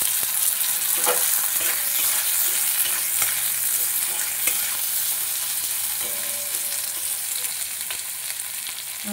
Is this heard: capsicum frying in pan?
yes